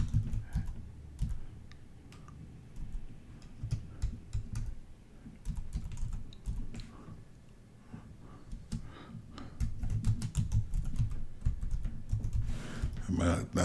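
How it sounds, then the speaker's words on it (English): A question is typed on a computer keyboard in quiet, irregular bursts of clicking keystrokes. The typing is close and soft, with pauses between the runs of keys. "let's just type a question."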